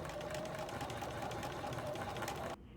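A sewing machine runs steadily while stitching a pants hem, giving a fast, even mechanical whirr up close before it stops abruptly near the end.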